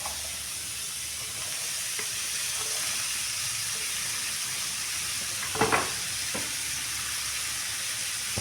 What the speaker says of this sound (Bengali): এবার আমি এটা ভালো করে ভাজা ভাজা করে নেব